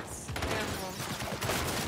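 A turret in Gears 5 rattles off rapid, continuous bursts of heavy gunfire, loud and close, a dense fusillade with voices talking over it.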